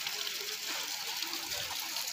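Spring water pours from an outlet at Garam Pani in Uttarakhand, a steady close gushing and splashing that stays even and fairly quiet for the whole moment, with no voices.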